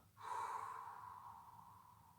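A long, soft exhalation during a yoga exercise, fairly faint and close, rising quickly and then trailing off slowly with no other sound.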